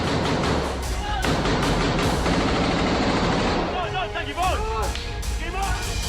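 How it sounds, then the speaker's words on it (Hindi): Heavy gunfire during an Israeli army ground operation in a south Lebanon village, rapid bursts and thuds crowding together, then shifting to excited voices and crowd noise over continued shots. "जबरदस्त फायरिंग चल रही है"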